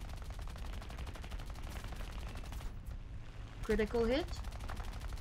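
Rapid machine gun bursts rattle in an armored combat video game, dense repeated firing that stops briefly before a short exclaimed question from a player cuts in.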